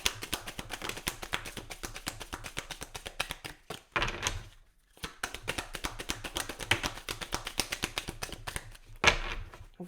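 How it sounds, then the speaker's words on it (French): Oracle cards are shuffled and drawn in a new moon reading, a quick run of crisp riffling taps and flicks that repeats steadily, with a brief pause midway. No one speaks over it. "Je vais quand même tirer quelques cartes de celui-là."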